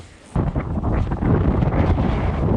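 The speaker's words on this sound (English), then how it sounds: "And you have side wind. It's crazy." Strong side wind buffeting a microphone while cycling at Nordkapp, Europe's northernmost point, a sudden loud roaring rush of wind that starts abruptly and then keeps gusting and rumbling heavily, with no talk.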